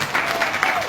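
Audience applause at a Kenyan political rally, a dense, steady wash of many hands clapping together, loud and sustained with slight swells, no voices standing out.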